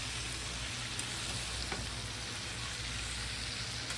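Chicken wings deep frying in hot oil, a steady broadband sizzle holding evenly throughout with a few faint pops, no voices.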